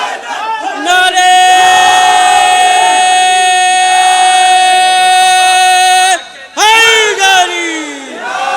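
A large crowd at a religious celebration gathering shouts a loud, sustained slogan in unison. The long held chant cuts off, and then a second shorter burst of chanting follows.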